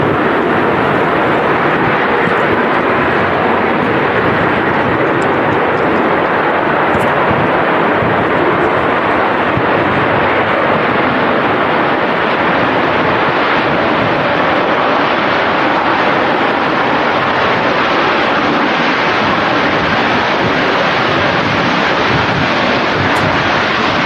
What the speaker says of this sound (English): See the aircraft really trying to stop there.